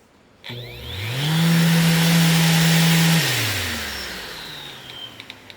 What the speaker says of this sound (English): you can turn your sander on. There it goes.